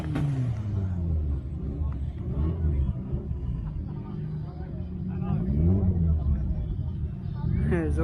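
Engines rumble and rev among the cars on display at a BHP car show, with a steady low idle and occasional throttle blips, voices talking over it throughout.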